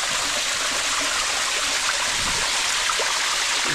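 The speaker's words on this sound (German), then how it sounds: "Hier steige ich gerade einen Wasserfall hinunter." Underground waterfall inside a cave, a steady dense rush of falling water filling the space, constant and close with faint splashes and no voices.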